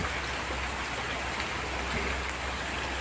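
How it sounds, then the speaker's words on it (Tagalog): Steady rain falls on a morning in Bataan, a dense, even hiss of drops on surfaces with no talk, constant and close throughout. "Yan po maulan ngayong araw."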